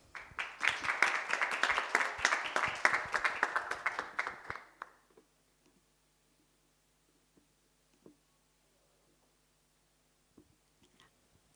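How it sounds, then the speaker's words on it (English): Audience applause welcoming a pitch presenter at the TiE Women Regional Finals. Dense, loud clapping fills the room for about four seconds, then stops abruptly into near silence with a few faint clicks. "Can we have a round of applause to welcome Hasna Al-Mutawa of Easy Health."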